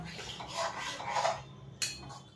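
A metal cooking pot of broccoli curry clanks and scrapes as it is lifted off a gas stove, a few clinks and one sharp knock near the end over faint kitchen background.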